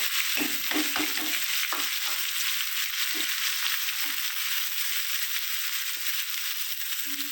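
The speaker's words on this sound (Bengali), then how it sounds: "গোল্ডেন করে ভেজে নিতে হবে পেঁয়াজ" Chopped onions fry in oil in a pan for a koi fish curry, a steady close sizzle with intermittent scraping stirs and clinks throughout.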